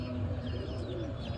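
Pigeons coo softly in a poultry-keeping setting with chickens, a low rolling warble over a steady background hum, continuous through the short stretch.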